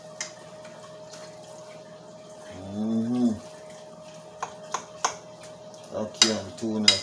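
Ackee and tuna fish are stirred in a pot on the stove, giving several sharp scrapes and clinks of a spoon against metal, with a low moo-like drawn-out sound in the middle over a quiet background.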